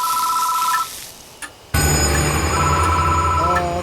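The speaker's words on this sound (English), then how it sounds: "The phone is ringing." A telephone rings in the horror game Death Mark, an electronic bell tone that cuts off before a loud, sustained ringing with buzzing harmonics bursts in and continues.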